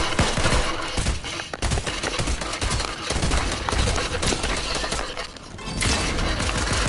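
Rapid bursts of gunfire from a shootout against an opponent in Fortnite, loud and dense, with overlapping shots and impacts filling the whole stretch without talk.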